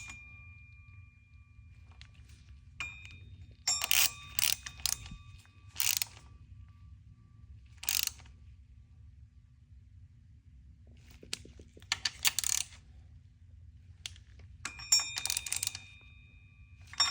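A ratchet tightens the water pump bolts on a K20 engine in a star pattern, giving short bursts of rapid clicking separated by quiet pauses, close and crisp.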